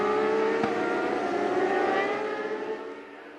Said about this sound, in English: And that's Nash on the 44, the red and white Yamaha YZF-R6